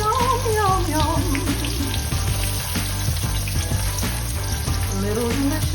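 Slices of green tomato fry in a hot pan, giving off a loud, steady sizzle with dense crackling and popping throughout.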